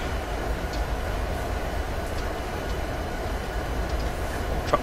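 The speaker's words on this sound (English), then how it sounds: "Piggyback train." A piggyback freight train carrying truck trailers rolls past on Sherman Hill in the Train Simulator 2016 game, a steady broadband rumble and rail roar that holds even throughout, with faint clanks and no talking.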